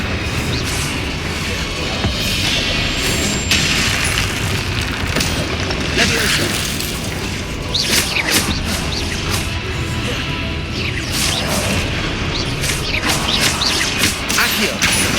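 Spells cast in the video game Hogwarts Legacy, including Repulsor, Confringo, Leviosa and Incendio, set off a loud, continuous run of booms, crashes and bursting blasts, with a voice heard among the effects.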